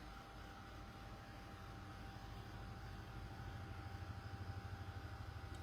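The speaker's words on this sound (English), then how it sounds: "Oh, he hears the helicopters." A faint, steady engine drone hangs in the distance, growing slightly louder with a rhythmic chopping pulse toward the end.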